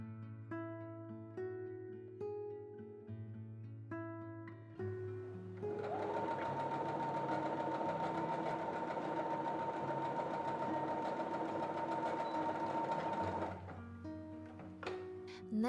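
A sewing machine stitches fabric for a scrunchie, starting with short, slow bursts of stitching, then running fast and steady for several seconds before slowing to a stop, close and clear with no talk.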